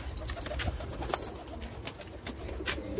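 Malwai pigeons coo at close range in a loft, soft throaty rolling calls repeating in irregular bursts, with rustling and wing flutters among them and no voices.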